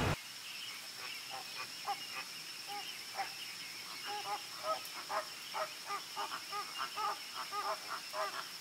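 A goose honks again and again nearby in irregular bursts of nasal calls, with a steady high-pitched outdoor hum underneath, in Spain.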